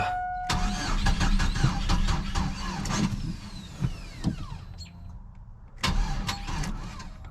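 A GMC Sonoma pickup truck's engine, struggling to start even with starting fluid, cranks and briefly catches before dying, then a second crank follows after a short quiet pause, all close and loud.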